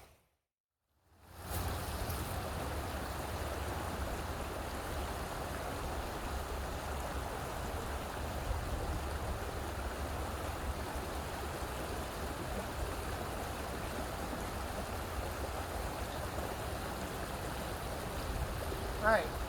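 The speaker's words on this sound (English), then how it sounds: "I do enjoy the sound of this stream" A flowing stream rushes steadily, a constant broadband babble of water that begins after a brief silence and continues evenly to the end.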